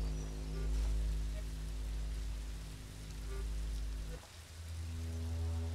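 Steady rain hisses across a stretch of the Songbringer game world, a dense, even wash of drops that holds throughout, with a brief dip near the end and no voices over it.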